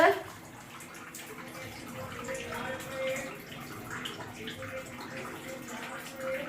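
Water runs steadily while clothes are washed in a bucket, a continuous close splashing wash with small drips and gurgles throughout.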